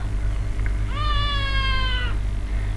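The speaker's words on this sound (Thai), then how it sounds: "อาจจะมีเสียงแมวรบกวนนิดหน่อยนะคะ" A cat gives a single clear, drawn-out meow of about a second, heard close over a low steady hum, with a tiny chirp just before it.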